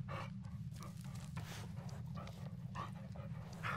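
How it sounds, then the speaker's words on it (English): A dog pants in the Blair Witch PC horror game, with quick breathy bursts repeating steadily over a constant low background hum. "Good dog."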